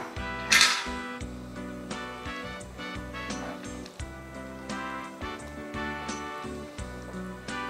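A utensil scraping and clinking against a bowl while tuna is mixed in off the heat, steady light repeated clinks and taps, close and fairly quiet.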